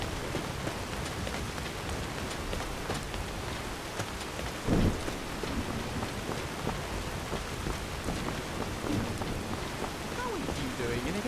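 Steady rainfall in Skyrim pours down across the whole stretch, with a low rumble of thunder swelling near the middle, while characters chat over the downpour.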